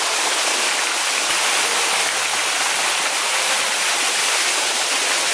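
Luk 11 waterfall in Oudomxay, Laos, pours in a constant, loud, dense rush of falling water that never lets up, with no voices.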